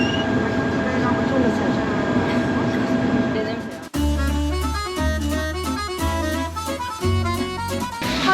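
A subway train in southern France rumbles and hisses nearby, then a loud low mechanical drone with rhythmic clacking takes over as the carriage moves.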